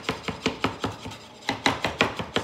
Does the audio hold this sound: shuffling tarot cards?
no